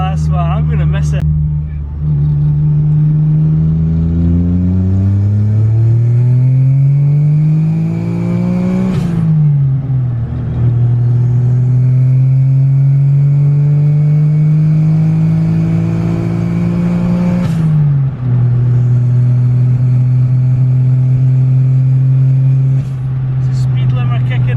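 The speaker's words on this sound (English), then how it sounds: "Speed limiter kicking in." A Daihatsu Mira Turbo's small engine revs loudly and climbs in pitch until it hits the speed limiter, holds there, then drops and builds again. The pattern repeats over about twenty-five seconds in a long, sustained drone.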